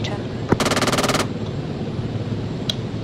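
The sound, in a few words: gunfire at a helicopter in the video game Arma 3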